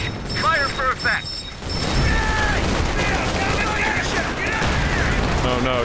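Artillery barrage fire in Company of Heroes, including a US 240 gun, sounds as rumbling booms and a dense fusillade of shots under excited commentary.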